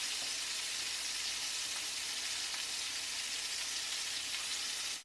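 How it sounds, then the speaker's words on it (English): Meat browning in a pot on the stove gives a steady, dense sizzle and frying hiss that runs unbroken and fairly close, with no talking over it. "Our meat's browning still."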